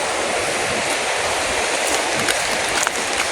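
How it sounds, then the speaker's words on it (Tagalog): A river at Camp Paraiso in Bongabon, Nueva Ecija, rushing nearby: a loud, steady broadband roar of flowing water, continuous and without talk. "Rinig na yung ilog."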